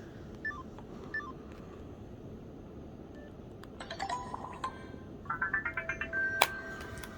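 A cheap Cricket mobile phone plays its short electronic shutdown jingle of rising beeping tones, a quick run of separate notes, faint against steady background hiss.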